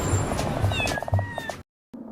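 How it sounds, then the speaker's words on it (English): A small black kitten meows several times in a row, short, close and clear, then it goes briefly silent. "Hey, it's a little black kitty!"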